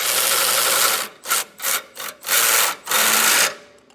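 Bolts being snugged down while an EcoHitch Stealth 2-inch trailer hitch receiver is installed on a 2024 vehicle: a series of loud, close power-tool bursts, one long and several short, separated by brief pauses, with no talking.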